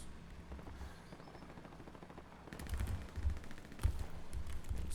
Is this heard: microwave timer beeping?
no